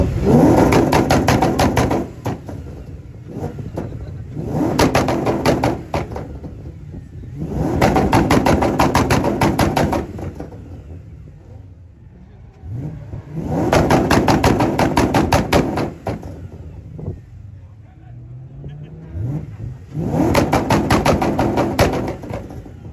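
An S4 engine at an American muscle car show roaring through repeated hard revs, five loud bursts of several seconds each separated by idling lulls, with crackling exhaust pops at the peaks.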